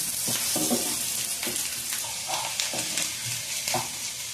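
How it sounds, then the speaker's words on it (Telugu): Onions frying in a pan for a chicken fry, a dense continuous sizzle with scattered crackles and occasional stirring scrapes throughout. "ఉల్లిపాయలు అయితే వేగుతూ ఉన్నాయండి, ఎర్రగా చక్కగా ఎర్రగా వేయించుకోవాలి"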